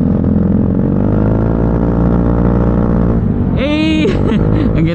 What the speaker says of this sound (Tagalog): Ang ganda rin ang tunog ng motor ko.